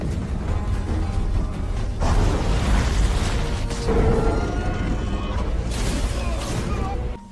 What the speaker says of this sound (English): The explosion from Montez is what ensues.